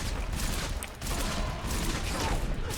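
Rapid bursts of gunfire from the Death Burster gun in the Fortnite video game, loud and continuous, dense and rattling, with no pauses over a couple of seconds.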